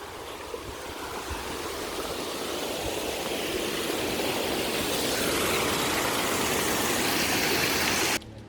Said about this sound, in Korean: 폭포.